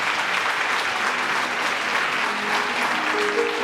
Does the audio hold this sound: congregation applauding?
yes